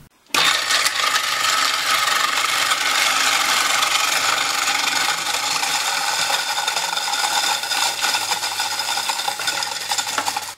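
A GGM ice crusher grinds ice for sausage making, starting abruptly and running as a continuous loud, gritty crunching and rasping for about ten seconds before cutting off.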